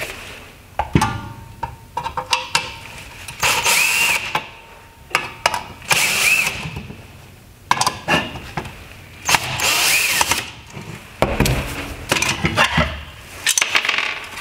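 Phillips head screws being removed from a halogen headlight projector on a 2013-2015 Honda Accord, heard as irregular close clicks, ratcheting and clinking bursts of small metal parts and tool handling, with no talking.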